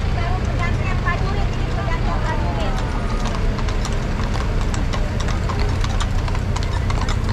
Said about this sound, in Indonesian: Nah, ini kuda-kuda ini dia nggak takut, kuda-kuda ini.